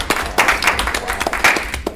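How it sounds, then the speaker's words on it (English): A small student senate meeting audience gives a round of applause, uneven bursts of a few hands clapping with irregular gaps, close and moderately loud. "just give him a round of applause"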